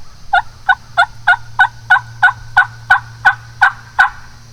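A wild turkey gobbler in South Florida woods gobbles in a rapid run of about eleven sharp, evenly spaced calls, loud and close over a low steady hum.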